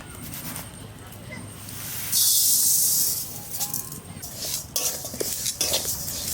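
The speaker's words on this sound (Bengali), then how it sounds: "আমি ডালটা ভেজে নেব" Moong dal being dry-fried in a pan in a home kitchen, with stirring and scraping and a brief louder sizzling hiss midway. Voices and clatter are heard intermittently.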